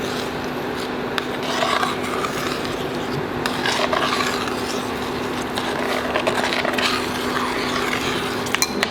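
A spoon stirs potato bhaji in a pan, with continuous scraping and rasping against the metal and occasional light clinks, close and steady throughout with no talk.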